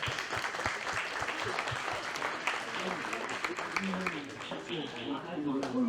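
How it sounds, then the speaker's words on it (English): Guests at a bass fishing team banquet give a round of applause, fairly faint scattered clapping from a room crowd, with chatter and voices mixed through it. "Let's give them a round of applause."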